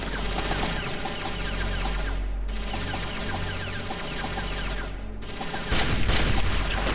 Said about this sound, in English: I want to shoot the rat.